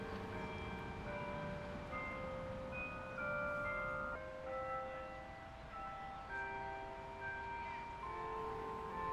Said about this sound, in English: Gotta love this semi-creepy church bell music here that kind of stops